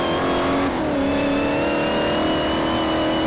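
Saleen S5S race car engine in the Forza 4 video game, a loud continuous high drone with a smooth, almost electric whine that dips briefly and then holds steady, with no talk over it.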